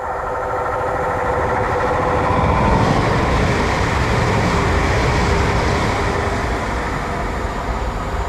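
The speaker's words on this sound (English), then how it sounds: "we've got a passing train to Birmingham New Street from Shrewsbury." A passing train bound for Birmingham New Street from Shrewsbury, heard as a steady, loud rolling rumble that holds for about eight seconds with no talk over it.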